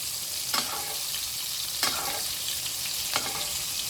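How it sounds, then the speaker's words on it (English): A steak sizzles in a pan as butter sauce is tipped over it, giving a constant loud frying hiss with a few brief spattering bursts. "you can tilt your pan, keep it above the heat, and then just gently kind of tip this butter sauce on top of it"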